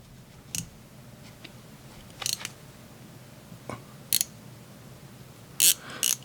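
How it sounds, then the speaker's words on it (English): A Helm Vanuatu watch's rotating bezel is turned, giving about half a dozen crisp, close ratchet clicks spaced irregularly over a quiet background. "So it ratchets smoothly and without any play."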